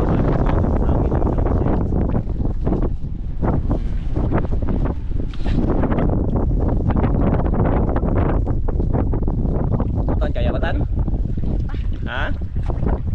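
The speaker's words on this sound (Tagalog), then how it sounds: "Lakas yung hangin." Strong, gusting wind roars across open water without letup, mixed with the churn of a boat and a few faint voices underneath.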